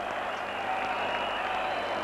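A cricket crowd at a West Indies v England Test match applauds a batting shot by Viv Richards, a steady broad wash of distant clapping and crowd noise that holds evenly throughout.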